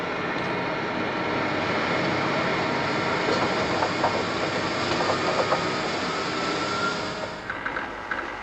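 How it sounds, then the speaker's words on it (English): Laboratory blowers running during an experiment give a loud, steady, broadband mechanical roar that holds for the whole stretch with slight rattling, and no one speaks. "Start blowers"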